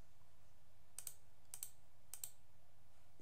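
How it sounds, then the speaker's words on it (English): Faint typing on a computer keyboard, three quick pairs of soft key clicks evenly spaced over a steady background hum. "I'm just going to type in color"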